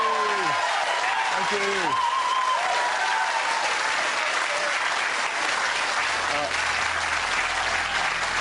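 A game-show studio audience cheers and applauds loudly and steadily throughout, with a host's voice briefly thanking them over the noise at the start.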